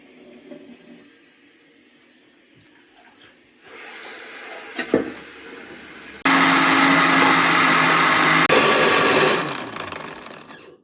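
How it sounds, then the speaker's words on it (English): A kitchen blender purees cauliflower florets with water, starting at a lower whir and then jumping to a loud, steady high-speed roar before cutting off near the end. "Finish blending my cauliflower."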